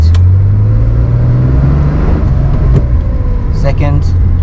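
A Porsche with Sportomatic transmission pulls away in first gear, its steady low engine drone loud and close from inside the cabin, with people talking over it.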